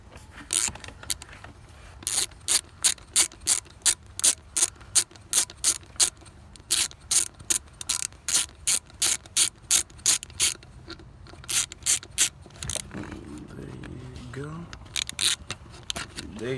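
A ratchet loosens a bolt on a 2003 Volkswagen Passat 1.8T during thermostat work, with rapid clicking bursts in a steady back-and-forth rhythm, close and clear, then brief faint talk near the end.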